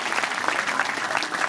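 An audience at a Hindi poetry recital (kavi sammelan) claps with both hands, a dense, steady round of applause filling the hall with no voices heard.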